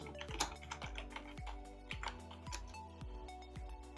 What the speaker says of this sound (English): I will be typing my Gmail ID.